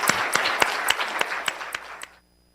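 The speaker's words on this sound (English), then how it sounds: "I think we should give them a round of applause." A lecture audience claps briefly after a regionalism talk by an architecture and urban planning professor, a short burst of scattered, distinct claps with no talking. It fades out after about two seconds.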